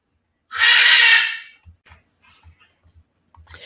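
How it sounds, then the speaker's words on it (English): A pet bird in a room gives one loud, harsh, crow-like call lasting about a second, followed by a few soft ticking clicks and light scratchy chirps. "Oh, there's my bird."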